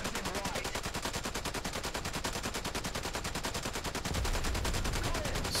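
Rapid, evenly spaced bursts of machine-gun fire in a video game, a dense sustained rattle of hits that grows heavier and louder near the end.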